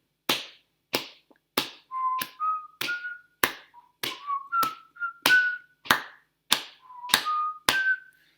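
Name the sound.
hands clapping, feet stamping and whistling a tune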